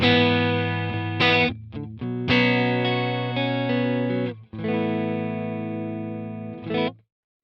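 Distorted electric guitar chords ring through a Quad Cortex amp preset with no reverb, sustaining between a few quick stabs, then cut off to silence.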